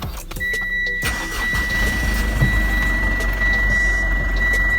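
A 4N15 engine in a third-generation Mitsubishi Montero cranks and catches, settling into a steady close idle with a faint high whine running through it.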